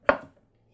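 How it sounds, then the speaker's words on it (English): A single sharp knife chop through mushrooms on a cutting board, close and crisp, followed by quiet. "Quickly chop the mushrooms in fairly small pieces."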